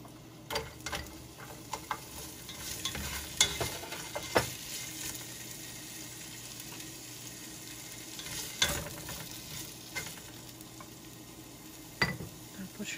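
Onion frying in a pan for a Filipino dish, a low steady sizzle close by, punctuated by irregular scraping and clacking of a utensil against the pan.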